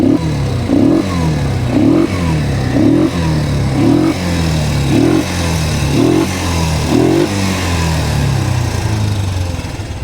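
A 200cc ATV engine idles steadily nearby, its rhythmic chugging pulsing about twice a second, loud and continuous with no voices.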